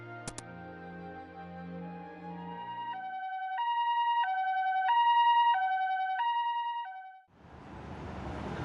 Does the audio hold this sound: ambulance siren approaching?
yes